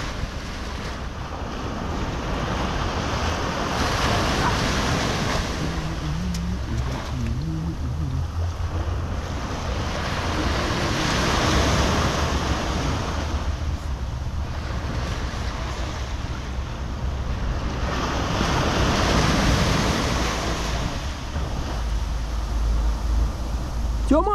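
Sea waves rolling onto a beach at Avsallar, Turkey, a continuous roaring wash that swells and recedes in slow surges, heavy wind buffeting the microphone, with people talking faintly in places.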